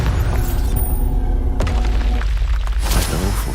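A Bombarda spell detonating in Hogwarts Legacy, a deep booming blast with crackling, shattering debris and a rumbling tail over constant game ambience.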